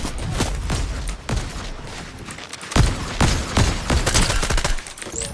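Repeated gunshots in the battle royale game Fortnite, a loud close volley of sharp bangs in irregular bursts over several seconds, with sustained rapid fire near the end.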